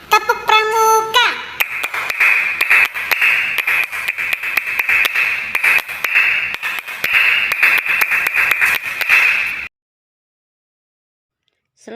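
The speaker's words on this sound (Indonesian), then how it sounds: "Kita coba lagi ya. Tepuk pramuka." Scouting-style rhythmic clapping pattern led in a primary school class lesson: a voice opens, then a long run of crisp patterned claps over a sustained tone, ending abruptly in silence.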